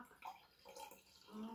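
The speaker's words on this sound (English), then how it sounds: "Got me cold water, so let's pour that" Cold water poured over the top of homemade bubble tea splashes and trickles briefly into a cup. The pour is short, soft and close.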